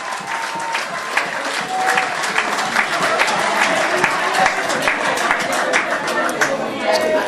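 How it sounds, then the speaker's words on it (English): A crowd applauds at a political party general council meeting, sustained dense clapping with scattered sharper claps and some crowd chatter mixed in, steady for the whole stretch. "We want to give the workers at the Ministry of Finance a tremendous round of applause for their efforts."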